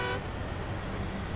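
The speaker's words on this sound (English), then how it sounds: "this is a honk" A vehicle horn honks in Snowrunner, a steady, loud tone held through the whole short moment over low rumbling engine noise.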